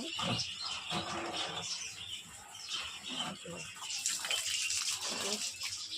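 Water splashing steadily onto garden plants such as Malabar spinach and bottle gourd vines, a continuous close hiss and patter with birds chirping now and then in the background.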